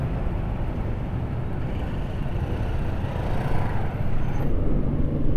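A Suzuki Avenis 125 scooter rides through traffic among tricycles, giving a continuous close rumble of engine and wind that swells louder toward the end, with no talking.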